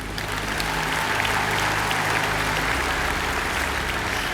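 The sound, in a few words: audience applause at a political speech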